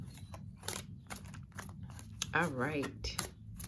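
Tarot cards are shuffled by hand in short crisp riffling bursts and taps, close up, with someone speaking briefly over the shuffling.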